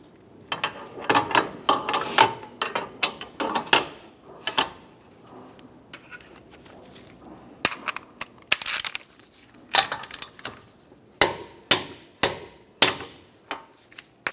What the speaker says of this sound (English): use a hammer and punch.